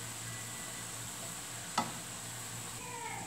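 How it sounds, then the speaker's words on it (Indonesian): Indomie noodles are stirred in a pan, a quiet steady sizzle with soft scraping throughout and one short sharp clink of a utensil partway through. "aduk sampai meresap ya bumbunya di dalam mie-nya"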